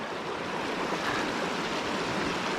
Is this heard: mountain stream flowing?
yes